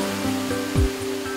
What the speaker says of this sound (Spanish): el sonido del agua y la naturaleza reinan